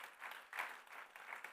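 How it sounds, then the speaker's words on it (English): Brief, faint applause from a conference audience at a rooftop plenary session, steady clapping lasting a moment and heard from a distance. "Give him a big applause."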